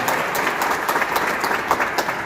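Sustained applause from a big crowd at a Kosovo Independence Day celebration in New York City, many hands clapping in a thick, even roar with small swells, no voices rising above it.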